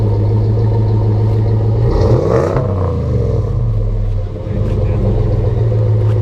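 Ram 1500 pickup with a 5.7L Hemi V8 and Gibson performance exhaust fires up, flaring with a brief loud rev before settling into a deep, steady rumbling idle close by, with a voice over it.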